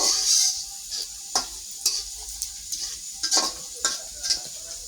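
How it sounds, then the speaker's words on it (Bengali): Red chillies frying in a pan for chalta (elephant apple) pickle, a steady close sizzle broken by repeated scraping stirs and light clinks of a utensil against the pot. "দেখেন মরিচ একদম লাল টুকটুকা হয়ে গেছে ভাজা হচ্ছে"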